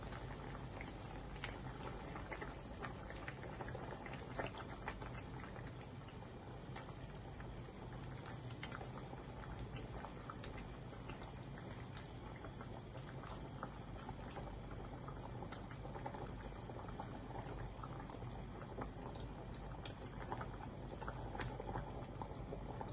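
Stingray fish curry at a steady boil in a pot on the stove, a continuous faint bubbling and simmering hiss with no talking.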